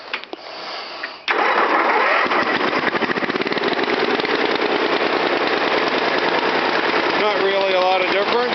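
A Briggs & Stratton engine on a tractor, now fitted with a muffler, cranks after a quiet moment and catches, then runs steadily and loudly with a dense, rapid beat close by.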